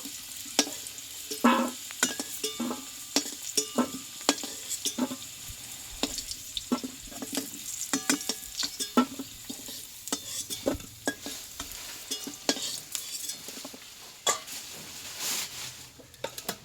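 Potatoes frying in mustard oil sizzle steadily in a pan while being stirred, with frequent sharp utensil scrapes and knocks in an irregular rhythm, close and moderately loud, no talking.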